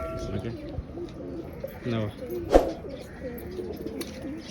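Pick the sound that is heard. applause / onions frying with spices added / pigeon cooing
pigeon cooing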